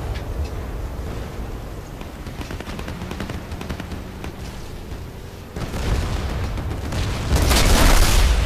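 Battlefield Play4Free combat: gunfire crackles and booms run throughout, then a heavy vehicle explosion rumbles up loud and broad near the end, swelling into a sustained roar.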